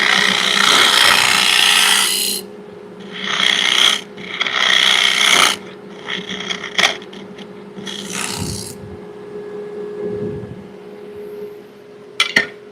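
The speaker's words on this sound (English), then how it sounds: "Scraper time." A hand scraper rasps over a surface in several long, harsh strokes, loud and close, separated by short pauses and lighter scrapes, with a faint steady hum underneath.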